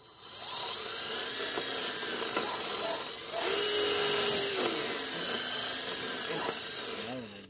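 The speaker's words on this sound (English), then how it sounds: "You just got to just keep the drill moving" A whirring power drill runs continuously close by, its pitch rising and straining as it bites into wood for a raised garden bed, with a voice faintly underneath.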